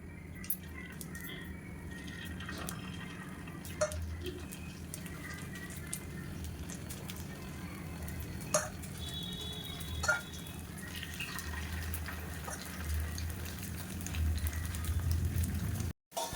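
Poongar rice batter poured one by one into the oiled wells of a kuzhi paniyaram pan, giving a steady soft sizzle with light crackles that grows louder toward the end.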